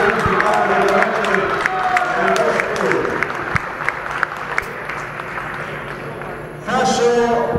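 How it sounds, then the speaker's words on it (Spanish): A crowd at a K1 kickboxing event applauds and cheers after a 61 kg bout, a busy roar of clapping and voices that thins out midway, then a speaker's voice cuts in near the end. "Señoras y señores, merecido el aplauso para estos dos rivales"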